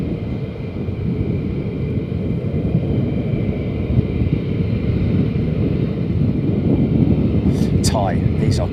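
Two F-15 Strike Eagle jets departing RAF Lakenheath produce a continuous, heavy jet rumble that holds steady throughout, heard from a distance over some wind noise.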